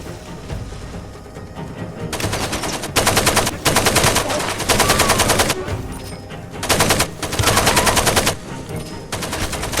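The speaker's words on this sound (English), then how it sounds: "I unleashed chaos with my AK and grenades." An AK rifle fires in a S.T.A.L.K.E.R.-style shooter game, sustained loud automatic bursts pausing briefly and then resuming, with brief gaps of quieter background between strings of rapid shots.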